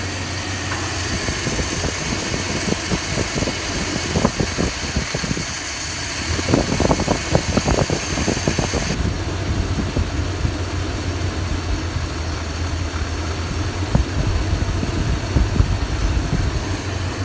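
A 1966 Plymouth Fury III engine idling with its carburetor being adjusted: a steady, low, continuous rumble with a mechanical hum and faint rattling, close by and fairly loud throughout.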